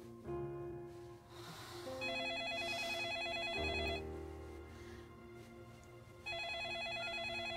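A telephone rings in a film scene, a bright electronic ringtone repeating in short patterned bursts over a faint room background, close and clear with no talk while it rings.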